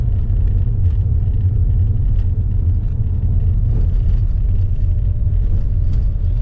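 A DPD delivery van passing nearby on a road, a steady low engine rumble and tyre roar that holds evenly throughout.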